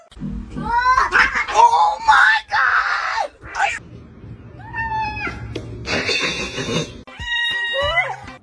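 A cat screaming and meowing in loud, drawn-out wails and caterwauls, close and harsh, broken by short pauses and ending in a series of rising yowls.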